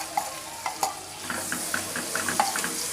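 Gram flour mixed into milk is poured into a hot tempering and stirred, giving a soft, steady sizzle with repeated clicks and scrapes of a spoon against the pan, close and continuous with no talking.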